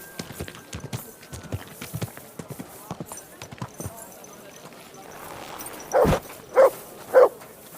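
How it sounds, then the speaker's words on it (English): In the medieval town of the Kingdom Come Deliverance game, a stray dog gives three loud, close barks near the end, after quieter clopping footsteps and ambient sounds. "Aye, aye, you silly doggy."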